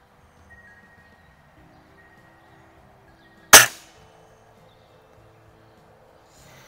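An RWS Diana 34 T06 classic break-barrel air rifle fires a pellet in the backyard: a single sharp, loud crack in near silence, decaying quickly.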